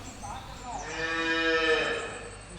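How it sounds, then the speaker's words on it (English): Dairy cows moo on a farm as the herd gathers in the collecting yard before milking; one drawn-out, fairly close moo rises over a low background hum of the yard. "the cows are all coming into the collecting yard, ready to be milked"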